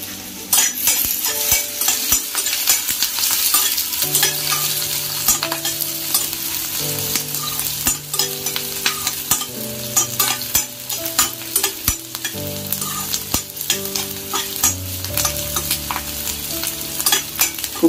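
Onion and coconut fry with a steady sizzle in a pan for a taklyachi bhaji, with continuous stirring and frequent utensil scrapes and taps under background music.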